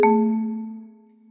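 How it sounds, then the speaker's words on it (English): A single marimba note struck too deep into the bar with mallets, giving a slappy attack that decays over about a second, close and alone. "If I play too down into the bar, it gets a slappy sound"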